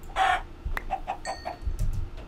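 Minecraft chickens give a few short, close clucks and squawks in a quick irregular burst, heard alone without speech.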